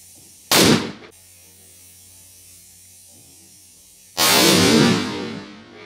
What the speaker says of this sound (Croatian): testiramo Silver Cracker, znači ovu petardu